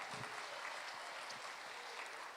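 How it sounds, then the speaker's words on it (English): Applause for King Springs Elementary at a mayor's education awards ceremony, faint, steady clapping heard from a distance throughout. "One more time, big round of applause for King Springs Elementary."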